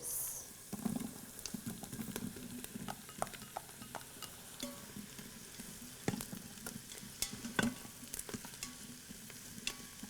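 Onions and mushrooms sauté in an Instant Pot, giving a quiet, continuous sizzle dotted with frequent light taps and scrapes of a stirring utensil.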